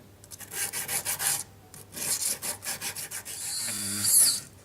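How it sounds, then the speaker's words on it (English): Emery paper wrapped around a needle file rubbing metal in jewellery work on a round basket setting, a close rhythmic rasping of quick back-and-forth strokes in bursts, ending in a steadier scrape. "You can wrap a piece of emery around a needle file and just get right into those nooks"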